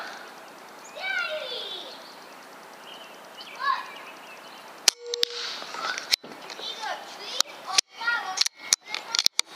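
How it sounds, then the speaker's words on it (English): An air rifle fires Air Arms Diabolo Field 16-grain pellets in a string of sharp, close cracks in uneven succession, after a stretch of birdsong outdoors. "We're going to send 10 rounds at that dot in the center and see what we get."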